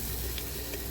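Brief, faint sizzle of turmeric and red chili powder frying with chicken in a pan, a soft steady crackle with no talking.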